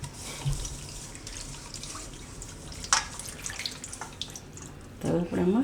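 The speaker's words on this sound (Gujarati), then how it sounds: "તો થોડુંક આપણે આમાં પહેલાં પાણી નાખીશું." Water is poured into a bowl of millet flour (bajra) for making tikki in a home kitchen, a soft trickling and splashing with a few brief louder spurts, followed by a short burst of nearby clatter.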